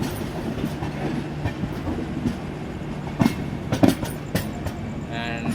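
A train rolls through a railway station with a steady low rumble and clickety-clack of wheels, broken by a few sharp metallic clanks and a faint squeal near the end.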